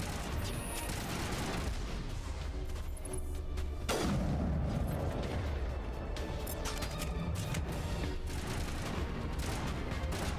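Sniper rifle shots in the sci-fi shooter Mass Effect ring out amid continuous battle noise, with one strong booming report near the middle standing out over dense background gunfire and combat clamor.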